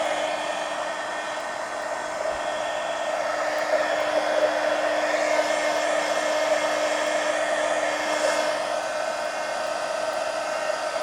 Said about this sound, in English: I thought I blew them away with the heat gun